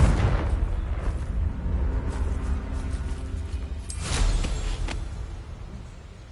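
Explosive spell in a Hogwarts Legacy fight: a deep rumbling boom with a low roar that swells and fades, followed by a second sharper blast with crackling debris, moderately loud against a constant low background rumble.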